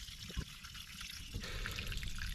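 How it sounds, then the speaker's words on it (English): Water trickles and pours steadily out of a disconnected pipe under an off-grid water system, a continuous close wash of flow with a few small splashes and no talking. "there goes all the water."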